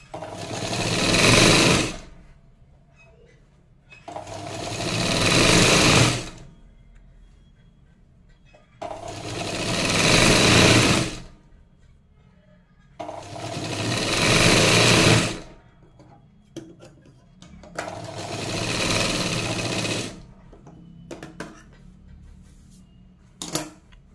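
A sewing machine stitches a blouse shoulder seam in five separate close, loud whirring bursts with short quiet pauses between them.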